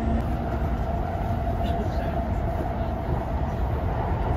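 A Tokyo subway train runs with a loud, continuous rumble of wheels and motors, a dense, unbroken roar with faint rattling throughout and no voices.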